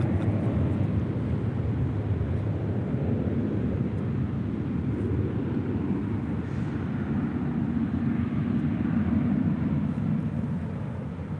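Delta airliner, flight 2438, taxiing at LAX toward runway 24 left: a continuous low jet engine rumble and broad hiss, steady and moderately loud, with no voices over it.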